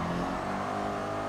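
Race car engine in a racing video game accelerating on a straight, a steady, close, loud buzzing engine note with no pauses or talk.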